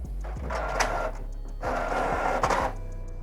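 A Canon Pixma TS7450i inkjet printer runs a print head alignment pattern, giving close, steady mechanical whirring with two louder bursts of carriage movement and paper feeding, and no talk.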